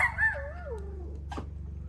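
A stray dog on a mountain hiking trail above the Cirque de Cilaos gives a short, high whimpering whine that slides downward, followed by a brief sharp yelp, fairly close and alone.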